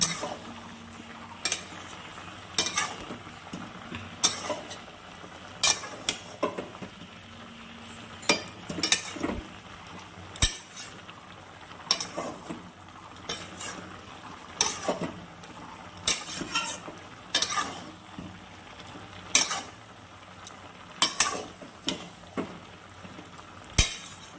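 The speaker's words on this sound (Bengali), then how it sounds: "এবার আমি এটাকে ভালো করে মশলাটা দিয়ে কষিয়ে নিব।" Spices being stir-fried in a pan for a prawn dish give repeated scraping and clinking strokes of a spatula against the metal at an uneven rhythm, over a faint low sizzle.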